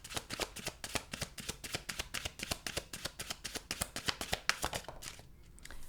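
Tarot cards shuffled by hand, a steady run of quick, crisp riffling slaps repeating close up for several seconds before easing off at the end.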